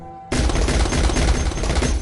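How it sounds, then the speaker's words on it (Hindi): Dense volley of firecrackers bursting in rapid succession, loud and close, a continuous crackling barrage that erupts abruptly after a brief quiet moment and keeps going. "पटाखा देख तो सही तू।"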